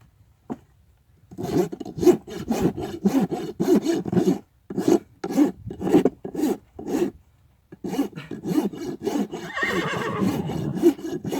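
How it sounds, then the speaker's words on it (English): A rasp files chips out of a horse's hoof during barefoot trimming, giving a close run of rhythmic scraping strokes that pause briefly and then resume, with no talk over them. "So what I'm doing here is filing these chips out"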